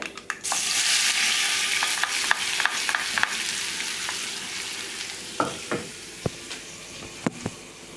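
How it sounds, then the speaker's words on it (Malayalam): Food sautéing in a pan, a bright continuous sizzle close up, punctuated by scattered clicks and scrapes of stirring that grow sparser toward the end, fairly loud with no speech. "നല്ലോണം ഒന്ന് വഴറ്റിയെടുക്കാം."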